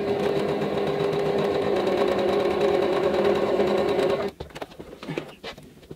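A sewing machine runs a steady, rapid stitch along a tulip quilt block for about four seconds, a close and even mechanical hum, then stops, leaving softer handling clicks and rustles.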